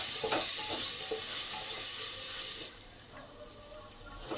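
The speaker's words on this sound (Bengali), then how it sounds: "আলুগুলো আমার ভাজা হয়ে গেছে" Potatoes fry in a pan with turmeric and chili powder, giving a loud, close, continuous sizzle with scraping stirs that softens noticeably partway through.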